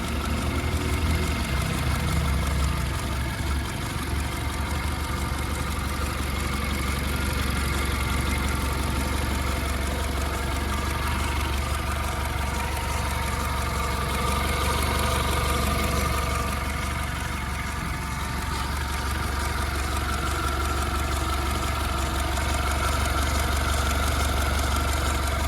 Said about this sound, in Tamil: இந்த டாடா ஜெஸ்ட்டோட ரிவாட்ரான் இன்ஜின் வந்து பார்த்தீங்கன்னா நான் ஸ்டார்ட் பண்ணிட்டேன்